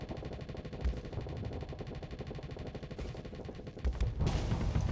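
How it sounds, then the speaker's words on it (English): Sabot missiles firing at an enemy ship in the space combat game Starsector, heard as dense, continuous rattling bursts of rapid weapon fire, with heavier booming impacts near the one-second mark and again after four seconds. "the sabos that I fire should be enough to overload him"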